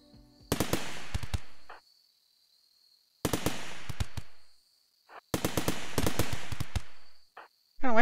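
Fast bursts of Uzi fire in the RimWorld video game, three separate rattling volleys of crisp sharp shots with short silent gaps between them, loud and close with no voices.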